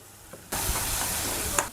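Prawns with turmeric drop into a hot pan and sizzle at once, a loud close-up crackling hiss with small pops and a brief clatter near the end.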